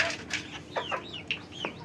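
An expensive hen on a village poultry farm clucks in a few short, rising calls spread across the moment, fairly close and clear over a quiet rural background.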